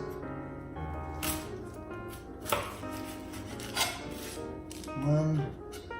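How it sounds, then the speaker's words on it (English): A knife cuts the ends off an onion on a board: a few sharp chops with soft rubbing and shuffling between them, close and moderately loud, and no voice. "now we're gonna cut the ends"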